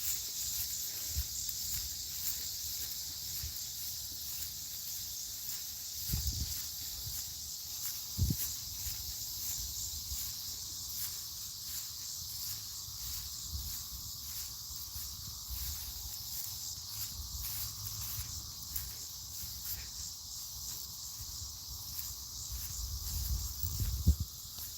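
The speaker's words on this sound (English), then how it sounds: "Now, the crickets are saying something else." Crickets chirp steadily outdoors at night, a faint continuous high trill with a few soft rustles and bumps beneath it and no talking.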